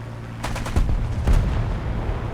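Burst of 20mm cannon fire from a Spitfire Mark V in a combat flight game, a few rapid heavy shots over a steady engine drone.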